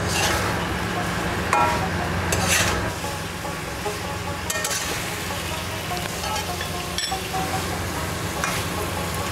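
Chicken pieces fry in hot oil with turmeric and salt, giving a steady, continuous sizzle with occasional clinks and scrapes of stirring throughout.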